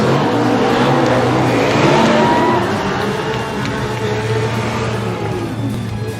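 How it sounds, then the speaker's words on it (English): Formula Drift cars perform celebratory burnouts on track after a round, engines roaring loudly and continuously with screeching tires and revving, a dense, sustained racing din with crowd and commentary faintly underneath. "Celebratory burnouts for the boys."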